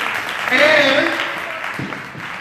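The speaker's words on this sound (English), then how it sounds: "Give them a round of applause." An audience at a monthly community meeting claps in a short, dense burst of applause that swells and then tapers off, with a speaker's voice briefly heard over it.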